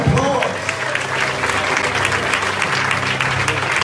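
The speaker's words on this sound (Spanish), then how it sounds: "Denle un aplauso." A church audience claps in sustained, even applause throughout, close and steady, with a voice speaking over it.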